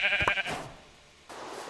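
Short bleat of a sheep in the Minecraft video game, a bright wavering cry at the start followed by a brief quieter sound, heard alone without talk.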